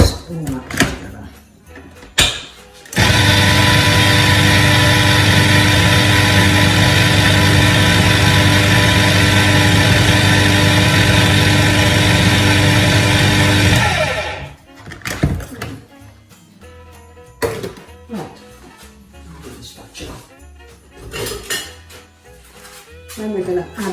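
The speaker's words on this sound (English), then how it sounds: "And again, whisk all that together." An electric whisk beats a Keto Christmas pudding mixture in a kitchen, a loud, steady motor whir running unbroken for about eleven seconds, with a voice talking and a few clinks before and after.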